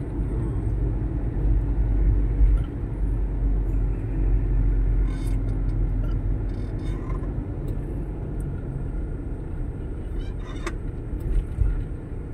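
Steady road traffic rumbles on the SLEX approaching the Skyway entrance, a constant low engine and tyre drone with a few faint, brief higher-pitched sounds above it.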